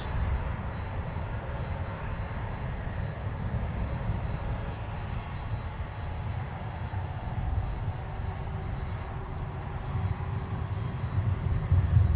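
A FedEx cargo jet taxis along an airport taxiway, its engines giving a steady, moderately distant rumble and whine that swells slightly toward the end, heard outdoors without talking.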